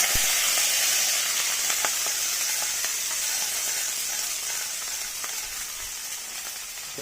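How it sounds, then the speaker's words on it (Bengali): Potatoes fry in a pan with a steady, close, hissing sizzle that holds evenly throughout, dotted with small pops and no voices. "এখন যেমন এই যে আলুটা ভাজা বসিয়ে দিয়েছি"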